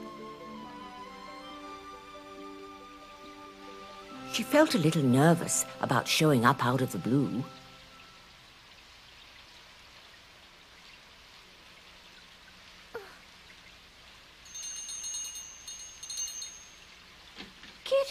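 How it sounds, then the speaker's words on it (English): Steady rain falls on surfaces outdoors in a soft, even patter that continues throughout, while a narrator speaks over it and a few brief clinks cut through near the end. "It was still raining when Kitty got to the train station"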